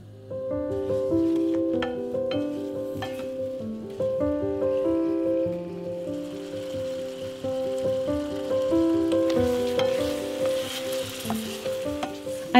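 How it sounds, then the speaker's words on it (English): Apples caramelize in melted butter and sugar in a pan, a soft steady sizzle rising in the second half, mostly buried under prominent melodic background music. "I melt some butter and add the sugar in as well as the apples. We are going to caramelize the apples a bit before baking."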